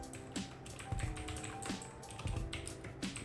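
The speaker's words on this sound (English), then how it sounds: "I'm typing so slow in this new keyboard" Keys clack on a new computer keyboard in an irregular typing rhythm, close-up and moderately loud, with a faint hum beneath and no talk.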